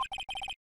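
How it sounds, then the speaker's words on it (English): A phone rings after a redial in the game Phoenix Wright: Ace Attorney, a short burst of rapid electronic trilling pulses, clear and alone, cut off abruptly. "You pressed redial on that phone, didn't you?"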